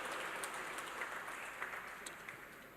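Applause from an audience at a live UPSC coaching event, a steady dense wash of clapping with no voices, held at an even moderate level throughout.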